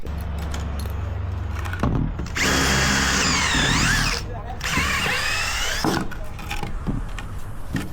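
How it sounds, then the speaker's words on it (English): A power drill whines loudly in two bursts of several seconds each, boring a 9mm hole with an 8mm bit, its pitch rising and falling as it bites in, with quieter clatter between. "I drilled one 9mm hole, and we'll see."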